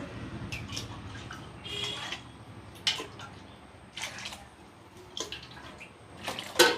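Water pours and splashes in several short bursts, each separated by quieter pauses, close by and moderately loud, with no talking.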